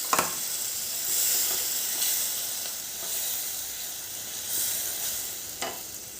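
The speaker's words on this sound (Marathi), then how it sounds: "मसाला छान फ्राय होऊ द्यायचा आहे" Masala for fish latpat sizzles and hisses steadily in a hot pan, a constant bright frying crackle with occasional soft scrapes of stirring.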